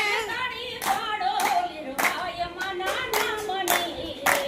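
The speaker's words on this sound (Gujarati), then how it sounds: "હે તાળી પાડો" Hand claps fall in a regular beat, about one clap per half second, beneath a voice singing a Gujarati devotional bhajan.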